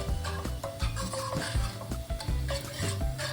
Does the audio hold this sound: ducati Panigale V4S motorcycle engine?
no